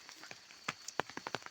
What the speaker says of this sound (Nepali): त्यस्तो पानी परेर यहाँ छाता गरेर बस्नु पर्यो